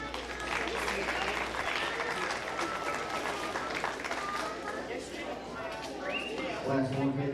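Livestock show crowd applauding young exhibitors in the heavyweight class, a steady clatter of clapping through most of the stretch with a voice speaking over it and faint animal sounds in the background.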